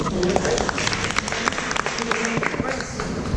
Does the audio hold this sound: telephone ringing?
no